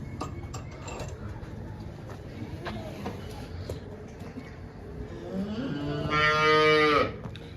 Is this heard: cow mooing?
yes